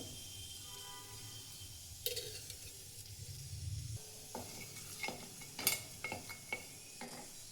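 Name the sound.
coriander seeds roasting and stirred in a pan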